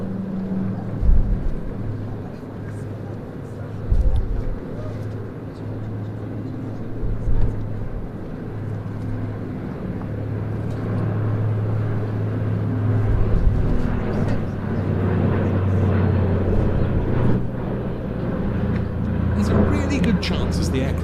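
A 1935 patrol flying boat with wingtip floats lowered flies back toward the crowd at the Jersey International Air Display, its piston engines a steady, swelling drone beneath continuous commentary.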